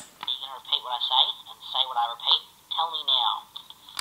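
A Yakbot toy robot from Really Rad Robots plays back a recorded voice through a pitch shift effect, giving a warbling, altered speech sound with a tinny, phone-like tone that runs steadily for about four seconds.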